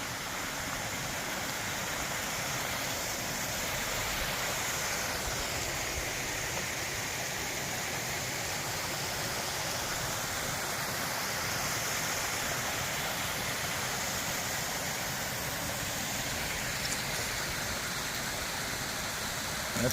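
Morialta Falls near Adelaide, South Australia, pours in a steady, broadband roar of falling water, continuous and fairly close, with no break over the whole stretch.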